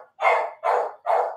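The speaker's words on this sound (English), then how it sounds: "my dog is super loud." A dog named William barks loudly indoors, three heavy close barks in steady succession with short gaps between them.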